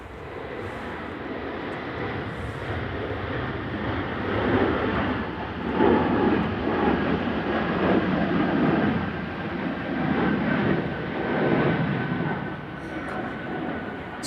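An Air Baltic Airbus A220 jet rumbles steadily through its takeoff roll at gusty Manchester Airport, a broad distant engine roar that swells and eases, with someone talking over it.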